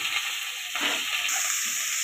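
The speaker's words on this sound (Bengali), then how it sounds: "মাছ ভাজার তেলের মধ্যে ফুলকপিগুলো দিয়ে দিলাম।" Cauliflower pieces sizzle and crackle in hot oil left from frying bhangor fish, a steady, close frying hiss with a brief burst of stirring and no talking.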